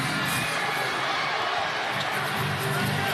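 Basketball crowd in the Smart Internet Coliseum during a PBA Philippine Cup finals game between Meralco and San Miguel, a steady expectant roar of many voices throughout, with a commentator talking over it.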